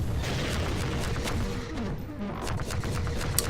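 Rocket blasts slamming into a towering Strider in Half-Life 2, a dense, continuous rumble of booming explosions and crackling debris with sharp bursts scattered throughout and one loud crack near the end.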